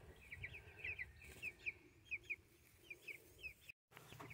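Young meat chickens make soft, quick clucks and peeps in short repeated bursts, fairly close but quiet over low background noise, with a brief dropout near the end.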